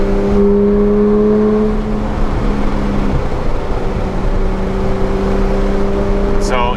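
Porsche GT3 cars roar down a mountain airport strip near 150 mph, loud engine drone with shifting pitch as they accelerate and pass, close and continuous.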